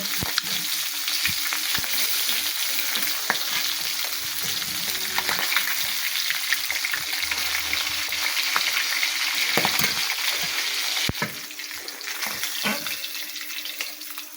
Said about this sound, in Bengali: মাগুর মাছটা খুব সাবধানে ভাজবেন মাগুর মাছ ভাজার সময় তেল ছিটে দেয়